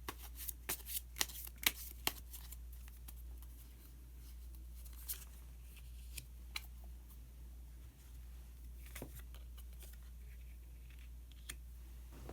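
Tarot cards being shuffled and drawn, a quick burst of riffling flutters and snaps at the start, then soft intermittent card slides and taps over a low steady hum, nearby and quiet.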